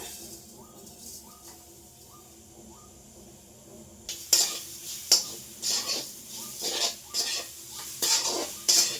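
Grated coconut and sugar being stirred and fried over low heat in a kadai. A quiet opening gives way to rhythmic, close scraping and clinking strokes of a spoon against the metal pan over a soft sizzle.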